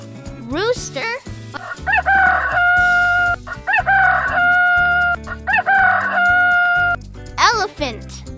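A rooster crows three times, loud and close, each cock-a-doodle-doo a rising then held call, over bouncy background music with brief cartoonish vocal sounds at either end.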